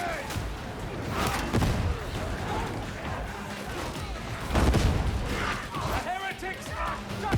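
Grenades burst and guns fire in a video game shooter, dull thuds and scattered crackling shots under near-constant overlapping voices of players talking.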